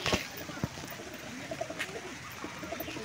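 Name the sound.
pigeons cooing in the rain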